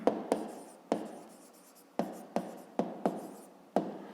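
A pen writes on paper in a series of short, separate strokes, each a quick scratch that fades, close and quiet, with no voices.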